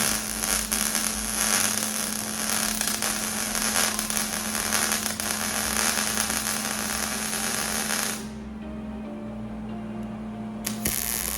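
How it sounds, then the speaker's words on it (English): Angle iron being welded onto a dual-auger deer feeder: a steady, loud crackling and hissing buzz for about eight seconds, then it cuts off, leaving a lower hum and a faint click. "Now I'm going to put a weld in the middle and we'll be good."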